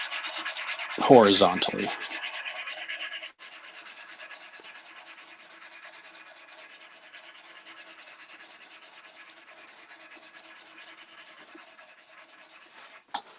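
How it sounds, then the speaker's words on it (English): A turned DiamondCast Tiny Giant pen blank is sanded on a lathe, with a loud, close scratchy rubbing burst lasting a couple of seconds, followed by a long, steady, quieter whir of the spinning lathe. "And now we can sand"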